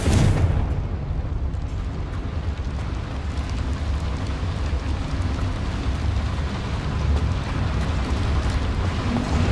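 A Confringo fire spell blasts in the Hogwarts Legacy video game, a dense, loud, rumbling roar of explosive noise that holds steady for the whole stretch with no talking.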